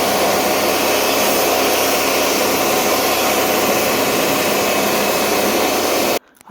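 A pressure washer blasts doormats and dog beds outdoors, a loud, continuous broadband roar and hiss that holds steady for about six seconds before cutting off abruptly.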